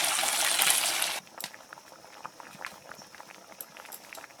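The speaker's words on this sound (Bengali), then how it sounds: "আর এদিকে কচুটা সেদ্ধ হচ্ছে" Taro simmering in a pot of water, a loud rushing burst at first, then soft bubbling and irregular small pops, close and fairly quiet, no voices.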